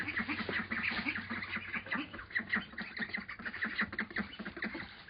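Ducks, including mulards, quack steadily in a busy, overlapping chorus close by while feeding, with continuous calls throughout and no talking.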